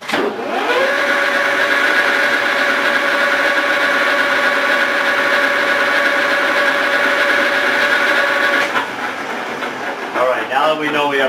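A machine spins an oiled shaft, giving a steady mid-pitched whir with a constant tonal hum for several seconds. The sound then cuts off abruptly and voices follow.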